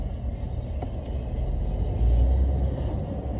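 A Porsche 911 drives around cones on a driving course, heard from inside as a steady low engine rumble and road hum that swells a little midway, with no talk over it.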